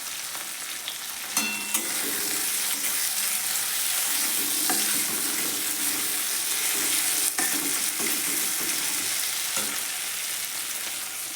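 Slit green chilies fry with softened, mushy tomatoes in a pan for ghugni, giving a steady close sizzle with occasional stirring scrapes and no talk.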